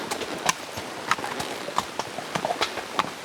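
Horses' hooves clip-clop over a rocky creek-bed trail with waterfalls nearby, a steady irregular run of sharp knocks against a constant rushing background.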